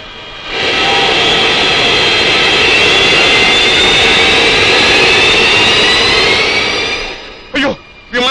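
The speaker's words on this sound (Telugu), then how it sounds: "అదొక ప్లేన్ వచ్చేసింది సౌండ్." A jet airplane arriving: a loud, sustained engine roar that swells in and holds steady for several seconds, then fades, followed by brief bursts of voices at the end.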